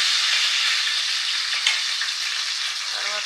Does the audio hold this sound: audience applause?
no